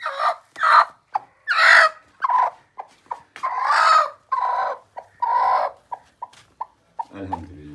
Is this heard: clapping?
no